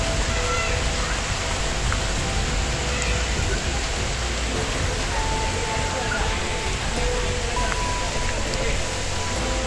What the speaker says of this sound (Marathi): आता पावसाची सुरुवात झालेली आहे जोरात